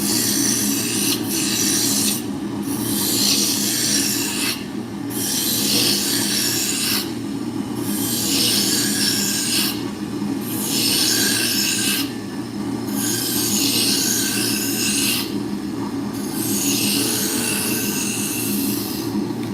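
A wooden drop spindle turns on a lathe, with a loud, continuous whirring and rasping hum broken by regular brief dips every couple of seconds; no voices.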